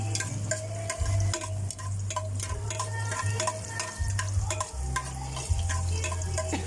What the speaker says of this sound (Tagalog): So, lalagyan na po natin ng bawang. Magigisa na po tayo mga katambay.